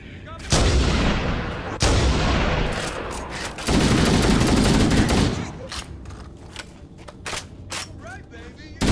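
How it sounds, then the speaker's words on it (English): Stationary gun turrets in Halo: Combat Evolved Anniversary fire in heavy, booming bursts that fill most of the stretch, followed by scattered sharper shots and impacts, loud and close, with voices shouting over the combat. "Those stationary guns are gonna tear us to pieces!"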